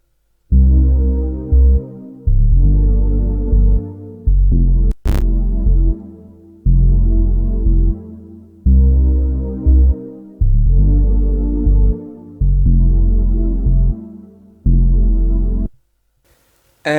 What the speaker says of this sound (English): the first elements we're starting with for this sample is a pad from Xenology as well as a bass from Xenology